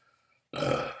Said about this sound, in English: I feel the burp coming on.